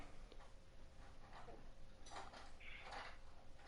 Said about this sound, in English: My sister's putting dishes away.